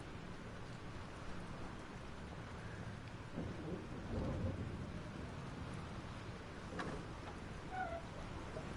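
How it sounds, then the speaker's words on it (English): Steady rain pours through a thunderstorm in the video game Life is Strange, with a deep roll of thunder swelling midway and fading under the constant downpour. "This storm is real."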